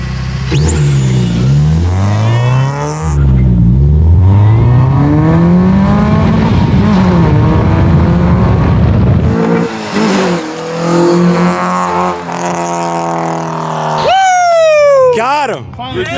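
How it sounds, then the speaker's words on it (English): A small RC drag car races with high, whining motor revs that rise and fall, loud and continuous, under excited voices talking and shouting nearby. "We're running this little drag car. It's real fast"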